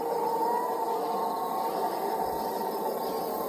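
North Korean propaganda loudspeakers near the border putting out a continuous, eerie, grinding drone like scraping metal, steady and unbroken throughout with no speech over it.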